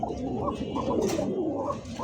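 Pigeons coo in a loft of fancy breeds such as Lahori, Bombai, Satin and Racer, a pair calling together with steady, overlapping low throaty coos lasting throughout, fairly close.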